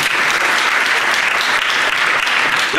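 Sustained, loud applause from a seated crowd at the Miss Skarżyska-Kamienna 2019 beauty pageant gala, many hands clapping evenly throughout with no pause.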